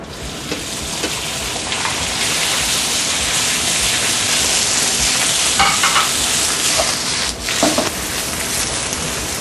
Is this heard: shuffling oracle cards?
no